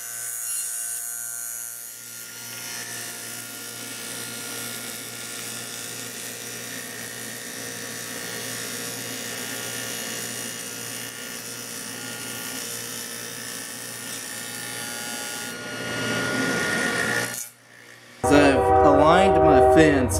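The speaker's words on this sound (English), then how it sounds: "I'm going to make a cut going through the jig, but not all the way through" A table saw runs steadily, cutting partway through a wooden box joint sled jig, a loud broadband whine held for about fifteen seconds before winding down, followed by a brief pause and a burst of clattering noise.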